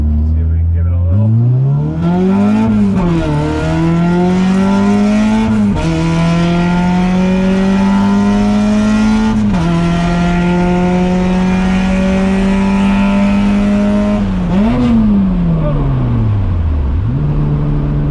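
A Honda Civic hatchback with a B18 engine revs hard through its gears, the loud engine note climbing steeply into VTEC in several long pulls with brief dips at each shift, while people talk over it.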